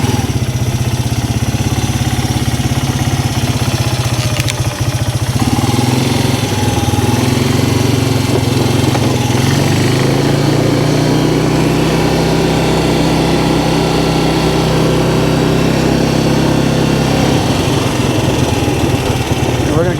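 A Polaris 300 ATV engine running steadily after a carburetor replacement, a loud continuous buzzing drone that rises and falls slightly with throttle, with someone talking over it.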